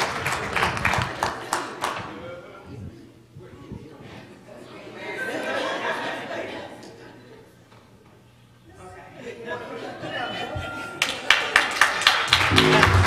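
A church congregation applauds for Jordan, opening with a burst of clapping. Murmuring chatter and light laughter follow, then the applause swells strongly again at the end.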